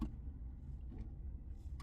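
A 2008 Toyota Yaris 1.3 VVT-i engine settles into a smooth, quiet idle right after start-up, with a low, even hum and a few faint clicks heard from nearby.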